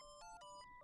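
A phone in an anime episode rings with a bright electronic ringtone, four short repeated bursts at a steady rhythm, clear and alone.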